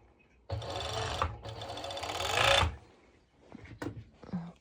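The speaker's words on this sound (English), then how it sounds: "I'm going to my serger, and same like before, I'm serging with the lining underneath" A serger overlocking sporty mesh fabric with lining underneath buzzes in two close, loud bursts, followed by quieter handling clicks and rustling.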